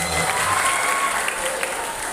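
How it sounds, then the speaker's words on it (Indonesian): An audience claps steadily after a welcome speech at an Islamic religious education (PAI) school gathering, a dense, continuous wash of applause with faint voices underneath. "Mana tepuk tangannya?"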